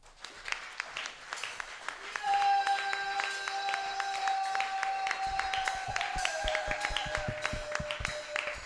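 Church congregation applauding during a Sunday service, steady dense clapping building after a brief start and continuing throughout, with sustained organ or keyboard tones and some voices underneath.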